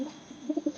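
A pigeon coos close by in a short series of soft, low throaty pulses, rising in the second half of a brief moment.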